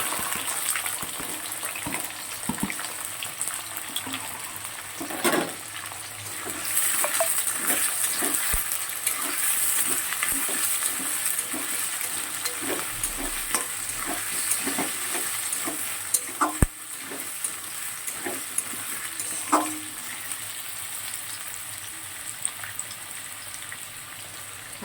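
Chopped potato, onion, tomato, garlic and green chillies sizzle in a pan with a steady hiss, while a spoon stirs and scrapes in repeated close strokes.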